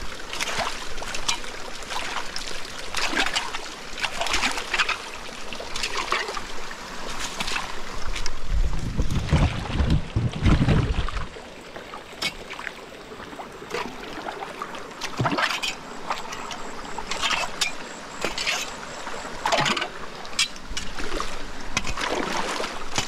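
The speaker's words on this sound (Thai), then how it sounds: "น้ำนี่ไหลนะพี่น้องน้ำไหลดี" Water flows in a stream that runs all year through a forest village, giving a continuous close splashing and babbling with occasional louder gurgles and knocks, and no voices.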